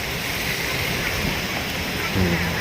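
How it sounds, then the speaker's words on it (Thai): Heavy summer-storm rain pours down with strong wind outside a house in Kok Kok village, a loud unbroken broadband hiss that stays even throughout. "พายุเข้าฝนตกนะครับฝนตก"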